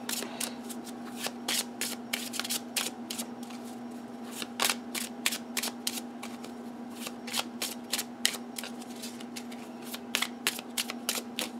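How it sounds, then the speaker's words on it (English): A deck of playing cards from a botanical-themed deck is shuffled overhand by hand, nearby. Rapid, crisp, irregular snaps and riffles run steadily for about eleven seconds over a faint constant hum, with no voice. "they overhand shuffle really nice"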